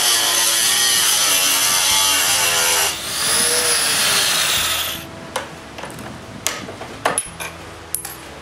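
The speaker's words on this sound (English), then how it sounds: "So I use a grinder to modify the barrel." An angle grinder cuts down the steel barrel of a bolt during shop construction, a loud continuous high-pitched grinding whine for about five seconds with a brief dip, then stopping and leaving scattered clanks and small handling noises.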